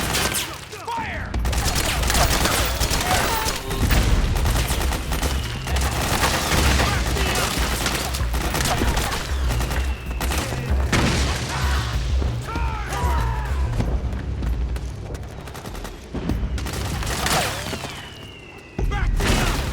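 Dense gunfire and explosions from a battlefield in the video game Metal Gear Solid 4 roar almost without pause, loud and close, with shouted voices mixed in.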